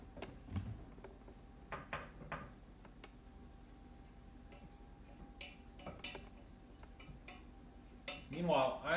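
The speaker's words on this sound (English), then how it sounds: "She's going to keep stirring that." A flour roux for a white bechamel sauce is stirred in a pan, with soft scraping and light clicks of utensil on metal, quiet and close, a few louder knocks near the end.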